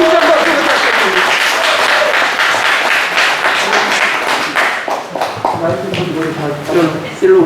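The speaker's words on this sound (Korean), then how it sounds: "다시 한번 힘찬 박수 부탁드립니다." A crowd at a film production launch ceremony applauds with dense, sustained clapping that thins slightly toward the end, loud and close.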